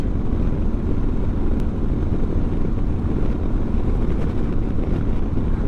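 A Harley-Davidson Sport Glide motorcycle cruises along the road, its engine a steady, deep rumble under constant wind buffeting for the whole stretch, with no talking.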